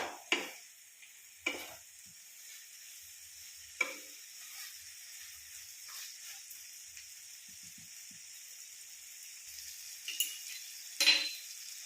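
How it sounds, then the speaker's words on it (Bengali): Fried vegetables for vegetarian Bengali shukto are sautéed in a pan: a continuous gentle sizzle broken by about half a dozen sharp spoon scrapes at irregular intervals, close and fairly quiet. "এরপর একটু ভেজে রাখা সবজিগুলো কষিয়ে নেব"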